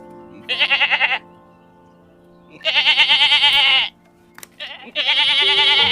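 Goats bleat loudly and close by in three separate wavering calls, with a short pause between each. The calls stand alone with no talk over them.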